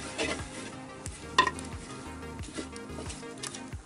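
Fish mustard coconut curry with garlic and ginger is stirred in a hot pan, with a steady sizzle of frying beneath repeated close scraping sweeps of a spoon and one sharper clack.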